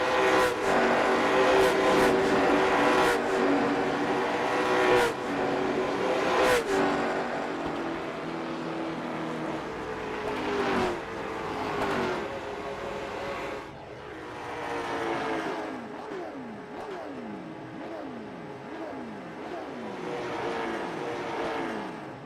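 Late model stock race cars roar around the New Hampshire oval, loud engine drones with repeated Doppler sweeps as cars pass, first in a dense pack and then one by one at a distance.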